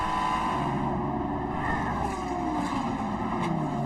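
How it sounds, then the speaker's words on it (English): GT3 race car at Road America, its engine droning steadily loud throughout with the throttle worked through small lifts and firm reapplication, no voices. "You can hear him just working that throttle"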